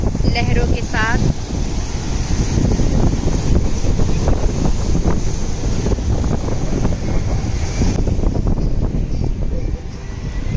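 Ocean waves on the seashore at Port Blair, a steady loud wash of surf with heavy wind buffeting the microphone throughout, with people's voices faint in the background.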